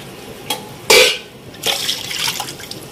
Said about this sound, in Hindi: और 2 कप मैं इसमें पानी डालूंगी।